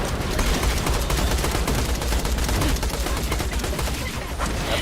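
Loud, relentless gunfire from the video game Borderlands, with rapid overlapping shots and bursts packed densely throughout with no letup.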